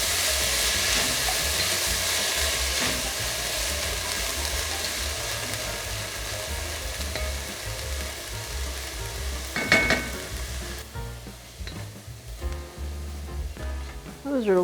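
One whole onion fries for Italian bean soup, with a loud, continuous sizzle that thins out toward the end as a few clattering stirs and pan knocks come through.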